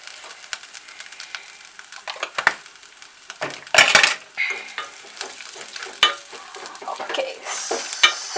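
Cumin and spices fry in a pan while a spoon stirs them, producing steady sizzling with bursts of scraping and clinking against the metal, near and moderately loud.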